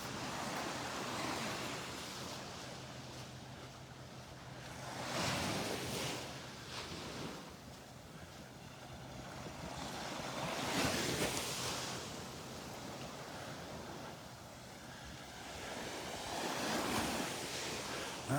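Waves wash ashore at Delnor-Wiggins beach in slow swells that rise and fall about every five to six seconds, a steady broad roar under light wind noise with no voices.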